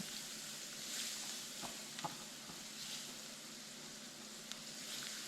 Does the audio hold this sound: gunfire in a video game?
no